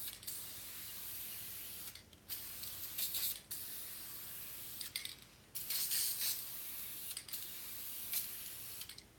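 Varnish spraying from an aerosol can at close range in several long, steady bursts of hiss with brief gaps between them, and a faint rattle at some of the pauses.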